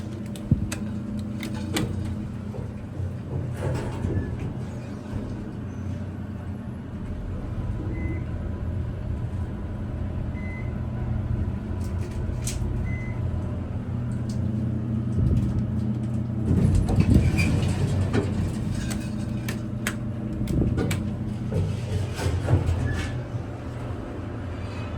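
A Dover traction elevator ride in a university business school building: a steady low hum and rumble runs throughout, with a few short beeps and a louder mechanical stretch in the middle, and no talk.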